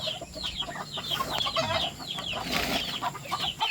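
Chickens raised for slaughter cluck and call continuously from inside a coop pen, with scattered wing flaps and busy overlapping bird noises at close range, no talking.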